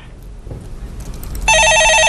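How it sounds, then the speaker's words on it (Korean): An electronic telephone rings loudly and steadily in a Korean stock-market call-in broadcast studio, the ring starting abruptly after a stretch of quiet room noise. "예, 전화 받아보겠습니다."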